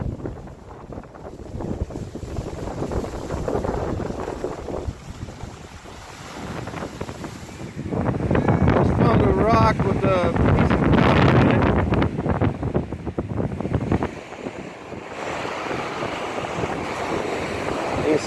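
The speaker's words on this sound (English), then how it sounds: "It's kind of windy today." Wind gusts along the Lake Superior shoreline, rumbling against the microphone with surf washing in beneath, swelling louder in the middle before easing off again.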